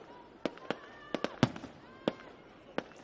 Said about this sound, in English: the fireworks going off in the background